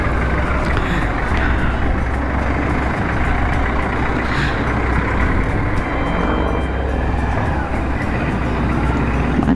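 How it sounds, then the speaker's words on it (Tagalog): Heavy road traffic with trucks and cars passing makes a loud, steady, close roar that never lets up for the whole stretch. "Traffic sa way na yun."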